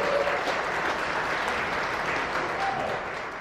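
Wedding guests applaud with scattered cheers and whoops filling the room, steady and dense throughout, tapering slightly at the end.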